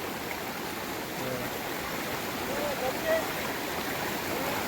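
A river stream flows with a steady, moderate hiss and gurgle, close by and even throughout, with a soft splash near the middle.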